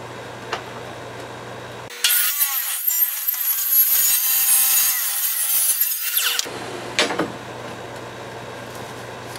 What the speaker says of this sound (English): I'm cutting it with a steel cutting Lennox blade.